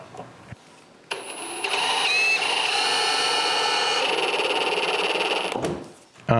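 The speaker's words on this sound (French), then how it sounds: "Je les enlève donc tous et je les remplace par des vis en laiton." A power drill drives brass screws into a cedar patio table, a loud steady whine with a rising pitch that runs for about four seconds after a short start, then spins down.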